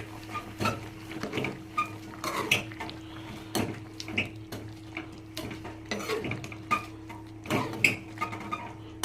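A spoon stirs thick prawn gravy masala in a metal cooking pot, giving repeated scraping knocks and clinks in an uneven rhythm, close and fairly loud, with no talking.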